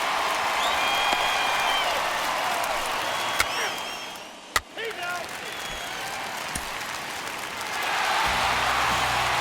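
Simulated home crowd in the baseball video game MLB The Show 21 cheers and applauds steadily as a broad, sustained roar, briefly dipping before swelling again, with no talk over it.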